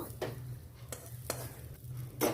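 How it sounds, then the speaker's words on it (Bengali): Potatoes, spring onions and carrots frying in a pan with light sizzling and a few sharp scraping stirs at irregular intervals over a low steady hum. "আলু পেঁয়াজকলি আর গাজর একসঙ্গে ভেজে নিচ্ছি।"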